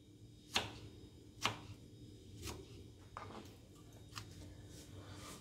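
Knife chopping scooped-out tomato insides on a board, a handful of quiet, sparse, separate cuts in a hushed kitchen.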